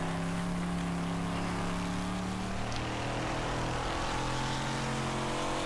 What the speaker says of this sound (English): I hope you can hear me over this car engine.